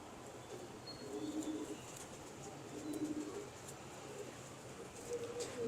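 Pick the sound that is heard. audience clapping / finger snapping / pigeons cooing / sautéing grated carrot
pigeons cooing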